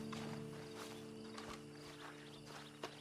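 Horses in a video game walk along with soft, irregular clip-clop hoofbeats over a steady low hum, faint and close, with no talk.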